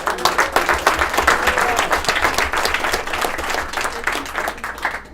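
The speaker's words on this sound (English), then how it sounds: "So let's give a round of applause for Danielle" Lively clapping from a room of colleagues at a sales meeting, loud and close with distinct individual claps, holding steady before tapering slightly at the end.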